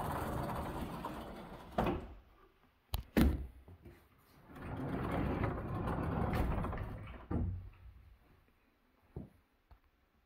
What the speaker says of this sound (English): Here are these doors that shut.